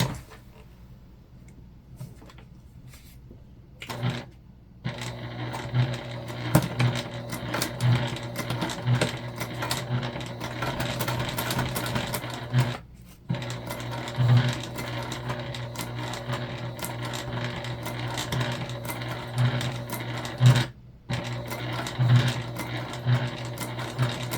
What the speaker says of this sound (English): we're going to top stitch over here